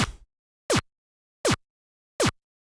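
Three synthesized kick drum hits built in Serum, each with a steep downward pitch dive and added distortion, spaced evenly and alone, after a brief burst of a different sound at the start.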